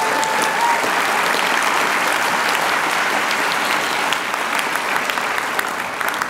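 Dense, sustained audience applause fills a 2016 Ford School commencement hall, steady and full for the whole stretch with no voices over it.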